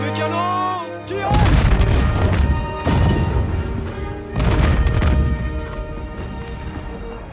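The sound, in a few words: cannon fire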